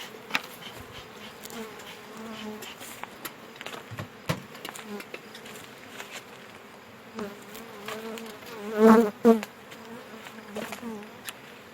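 Honeybees buzz around beehives outdoors, a continuous close drone with individual bees passing near the microphone and a louder buzzing burst late on, no clear talk.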